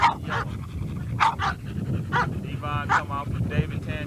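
Several dogs in a kennel yard bark, yip and whimper in short bursts, fairly close, with panting and low background rumble between barks.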